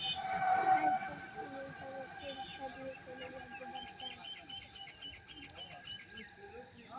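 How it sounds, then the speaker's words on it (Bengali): Birds call and chirp around a foggy winter village at dawn, with repeated short tweets and a sustained whistle-like tone over a faint background, while a person talks nearby. "পাখি ডাকতেছে চারপাশে"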